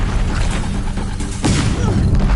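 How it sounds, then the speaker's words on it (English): Gunfire and explosions from Deathbringers in a video game, a dense loud barrage of booms and rapid shots rolling together, with a sharper blast about midway. "If the Deathbringers keep firing, this bridge will go."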